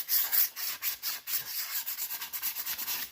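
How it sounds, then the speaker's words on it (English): Light-grade sandpaper rubs back and forth over the rough edges of a wooden deer skull plaque, a steady series of short, close, rhythmic scratchy strokes with no talking. "just take some pretty light grade sandpaper here, and just clean up anywhere you got a little rough edge"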